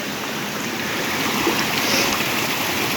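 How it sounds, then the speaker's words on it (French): A small mountain stream flows below the Dolomites, a steady close rushing and babbling of water that stays even throughout with no voices. "on s'est calé juste en dessous des montagnes, au bord d'un petit ruisseau."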